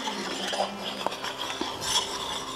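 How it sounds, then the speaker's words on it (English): Spoon stirring caramel sauce with butter in a pot, soft scraping strokes broken by occasional light metallic clinks against the pot, close and quiet with no talk. "So we're going to keep stirring it."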